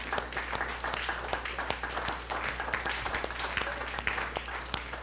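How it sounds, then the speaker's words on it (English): Worshippers in a church keep up a clap offering, a sustained crowd of hands clapping at a steady level, with scattered sharper claps and murmured voices beneath. "Come on, give God a clap offering."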